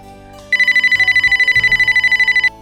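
A telephone rings with a loud electronic ringtone: a fast run of evenly pulsed beeps lasting about two seconds, close and clear over a quiet room, with no one speaking.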